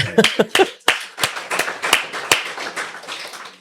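A few sharp, separate claps build into a short round of light applause from a small group, with scattered hand claps fading toward the end.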